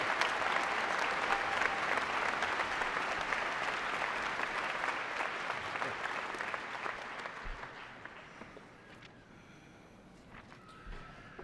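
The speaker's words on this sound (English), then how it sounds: "you may give them a round of applause" Commencement audience at the UW-Green Bay spring graduation ceremony giving a round of applause, dense sustained clapping filling a large hall that gradually thins and tapers off toward the end.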